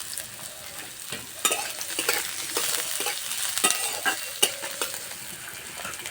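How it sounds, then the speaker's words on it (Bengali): Grated carrot, grated onion and green chili fry in oil with whole cumin, giving a steady close sizzle broken by the scrape and clack of a spatula stirring them, with no voices. "তেলে দেবো কোচানো গাজর, কোচানো পেঁয়াজ,"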